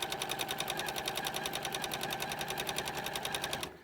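A sewing machine runs steadily while quilting scrappy crumb fabric pieces, its rapid even stitching rhythm loud and close for nearly four seconds before stopping abruptly.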